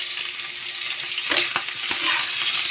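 Meat goes into a hot pan with garlic, onion and leaves for Filipino bihon, setting off a loud steady sizzle with a few sharp scraping stirs, close up.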